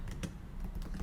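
Code typed on a computer keyboard gives a quick, soft patter of key clicks, close and fairly quiet, lasting about a second with no voice.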